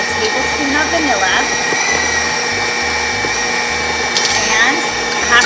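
Electric mixer whipping air into thickening divinity candy, a steady loud motor whir that runs continuously with faint pulsing and a cook's voice speaking over it.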